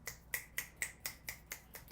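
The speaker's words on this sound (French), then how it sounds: "Des fois, je pense que ma main est possédée par les claquements de doigts" A hand snaps its fingers eight times in a quick, steady rhythm, each snap crisp and close yet fairly quiet, with nothing else heard.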